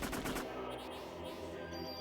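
Automatic gunfire from the Parasite Eve video game during a battle, a quick rattling burst of shots at the start followed by a ringing, fading electronic tail, loud and close.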